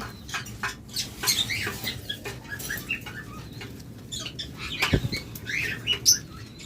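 A pair of caged lovebirds among budgerigars at a bird sale: scattered chirps and short calls over a steady low background murmur, with one sharper knock near the middle.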